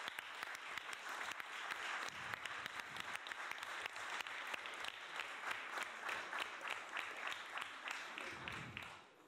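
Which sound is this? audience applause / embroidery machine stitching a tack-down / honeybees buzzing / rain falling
audience applause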